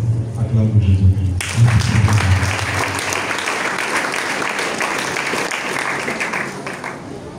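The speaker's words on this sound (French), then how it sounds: "Acclame pour Jésus-Christ." Applause from a worship congregation acclaiming Jesus Christ, broad sustained clapping rising after a low voice and continuing steadily, with talk mixed underneath.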